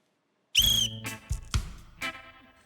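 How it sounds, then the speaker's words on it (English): A single sharp referee whistle blast starts a game-show task, loud and close, followed by a few clattering handling knocks and thumps. "We'll start on my whistle."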